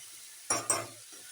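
Tempering in hot oil for a dish of fresh gram greens gives two quick bursts of sizzling and clatter in a close kitchen, with quieter frying around them.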